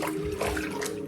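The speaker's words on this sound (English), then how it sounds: "final rinse off a little bit of warm water" Warm tap water runs steadily into a sink for a rinse after a straight razor shave, a short close continuous gush.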